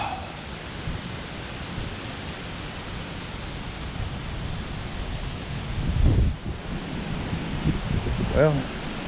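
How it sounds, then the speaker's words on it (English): Wind buffets a microphone on a hike to a large man-made star, a constant broadband rumble that swells and thumps louder near the end, while a voice talks briefly underneath. "Wish it wasn't so windy, but it is what it is, I guess."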